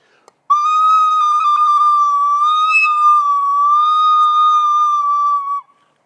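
Children imitate a strong wind blowing through a forest, one steady, loud whistling tone held for about five seconds with slight wavering, alone and without talk.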